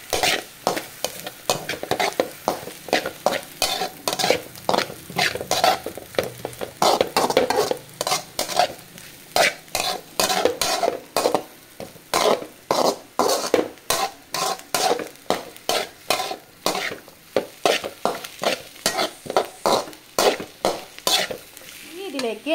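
Homemade noodles are stirred and fried in a pan, giving a steady sizzle broken by rhythmic scraping and clacking of the spoon against the pan, close and continuous with no voices.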